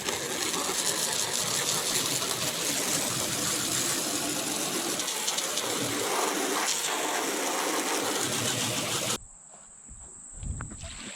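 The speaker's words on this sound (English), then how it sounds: "I need this hose. Let's get this thing sprayed out." A hose sprays water hard in a loud, steady rush while farm chores are done, running for about nine seconds before shutting off, leaving a quieter hiss and faint clatter.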